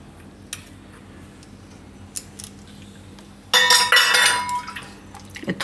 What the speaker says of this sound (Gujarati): એને આપણે આમાં પાણી આરે જ નાખી દેવું બધું.